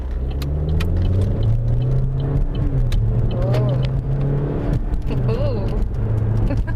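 A car engine idles and runs smoothly after a simple tune-up, a steady low rumble with a constant hum, close by and even, while someone speaks briefly over it.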